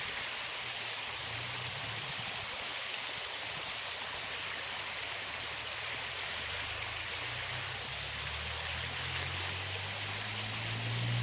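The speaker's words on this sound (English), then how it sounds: "It's a tall waterfall" Emmert Falls, a tall waterfall in Kentucky seen on an autumn hike, gives a steady, soft rushing hiss of falling water that continues without a break from a moderate distance.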